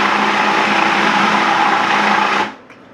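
A food processor grinding spinach with walnuts and vinegar into a puree, a loud steady whirring motor drone that runs continuously and then cuts off abruptly near the end.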